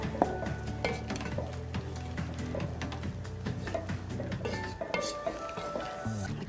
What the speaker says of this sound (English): Give that a really good stir to combine everything really nicely